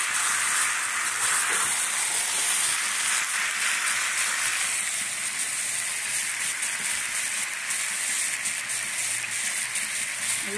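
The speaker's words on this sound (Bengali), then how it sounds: "আমি ঘন ঘন নাড়াচ্ছি এই কারণে, নিচে আলুটা আছে তো বসে যাবে" New potatoes for a spiced potato curry fry in a pan and are stirred often, giving a steady, close, loud sizzle that continues without a break and with no talking.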